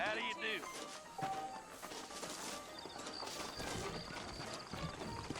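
Saddled horses in the Red Dead Redemption video game clop with soft, irregular hoof steps, faint and low under characters speaking.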